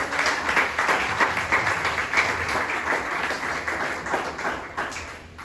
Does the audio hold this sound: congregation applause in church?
yes